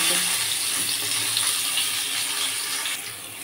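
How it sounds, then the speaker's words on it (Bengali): Eggplant slices frying in hot oil in a wok: a steady, loud, close sizzling hiss that continues without a break and fades slightly at the end. "এরপর আমি বেগুনগুলো উল্টে পাল্টে ভেজে নেব।"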